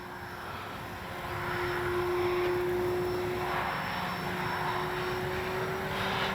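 An FMS Ranger 1220 RC plane with suspension landing gear drones past with a steady electric motor whine. It grows louder after the first second and holds near and clear, with no talking.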